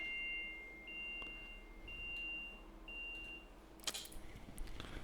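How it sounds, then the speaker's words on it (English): A phone sounds a fishing bite alarm as a series of four clear, evenly spaced electronic beeps over faint background hum, followed by a short clattering noise near the end. "You can hear my real life bite alarm going there, my phone."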